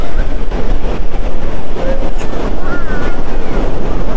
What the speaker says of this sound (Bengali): সমুদ্র সৈকত, longest sea beach in the world